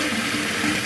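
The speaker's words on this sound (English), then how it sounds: "And I basically just fill up this jar with water" Hot water gushing steadily from a tap into a jar for brewing strong tea, a loud, close, continuous splashing rush with no talk.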